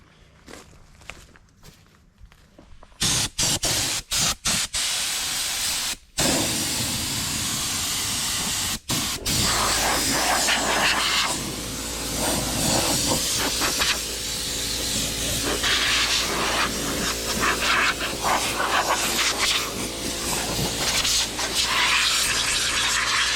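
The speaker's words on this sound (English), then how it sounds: "Get the compressor fired up and get the hose connected and get it done." Air compressor hose blowing dust off a log splitter outdoors, with short sharp bursts of air at first, then a long continuous loud hiss of blowing air, close by with no speech.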